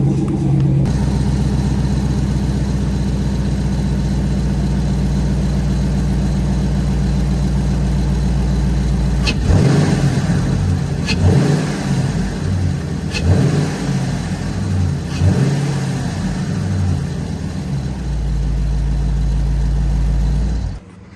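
A car engine with its stock intake idles with a low rumble, then revs up several times in loud surges before settling back down.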